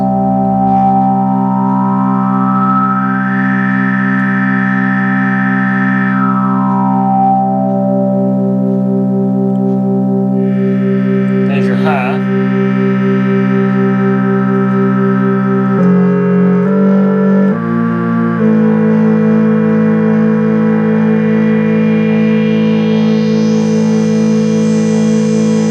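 A Polymoog resonator synthesizer module plays sustained, buzzing tones through a small amplifier that distorts on the low end, with a slow sweeping filter, a brief crackle midway and stepped pitch changes, steady and loud throughout.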